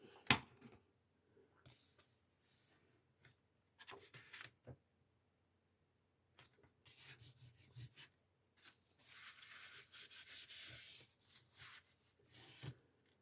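Dry rubbing and pressing of a glued paper page onto an accordion-fold album, heard as short, quiet scuffing strokes in intermittent bursts, with longer and brighter rubs toward the end.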